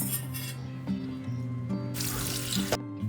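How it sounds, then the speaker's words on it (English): Tap water runs over freshly blanched bok choy pieces in a sink, a steady close splashing stream with shifting tones as the flow hits the greens, alone with no talk. "let it cool down under running water"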